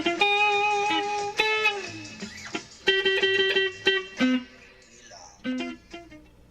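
An electric guitar plays a lick in short, punchy phrases with note bends and slides, sometimes pausing between phrases, heard up close with a slightly driven tone.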